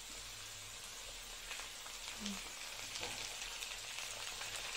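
Cut dried hilsa fish frying in hot oil in a pan with onion and potato gives a continuous soft sizzle and crackle, faint and even throughout, with no voices.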